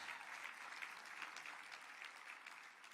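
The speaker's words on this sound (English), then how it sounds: "Go ahead, you can clap." Audience applause at the Super Bowl LX welcome press conference, a steady, even wash of many hands clapping that holds at moderate distance for the whole stretch, fairly faint overall.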